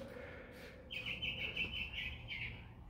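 A bird chirps outdoors in a short bright run of repeated tweets lasting about a second and a half, fairly close over a quiet background.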